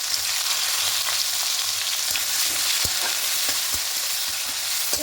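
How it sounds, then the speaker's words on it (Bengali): Chopped onions fry in hot oil with bay leaves, giving a steady close sizzle with occasional stirring clicks and scrapes, with no voices. "হালকা একটু লাল লাল করে ভেজে দেবো"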